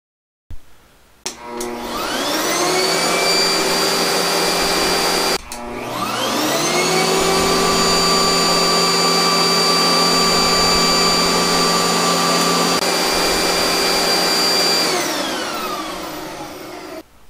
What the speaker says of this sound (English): We will first demonstrate with a 12 amp home vacuum.